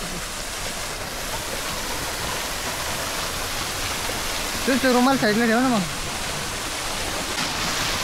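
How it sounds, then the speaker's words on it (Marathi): A waterfall on a hiking trail roars as a steady broadband rush of falling water, constant and fairly loud throughout, with a brief spoken phrase heard over it partway through. "हा सुंदर असा धबधबा लागलाय"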